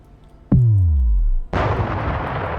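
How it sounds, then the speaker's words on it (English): A capital ship explodes in the space combat game Nebulous: Fleet Command, with a loud booming detonation and a deep descending rumble, then a second harsh roaring blast that lingers as broad crackling noise. "Cap ship on E does detonate just out of range of these liners here."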